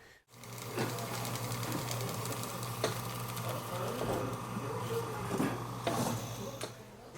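A machine peeling Echizen persimmons runs with a steady mechanical whir and a constant low hum, with faint clicks and scraping over it, close and continuous.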